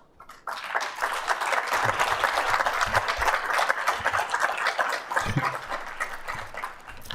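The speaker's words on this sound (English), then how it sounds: "Thank you for that applause" Sustained audience applause at a university State of the University address, a dense steady wash of many hands clapping that starts abruptly and continues for several seconds before tapering.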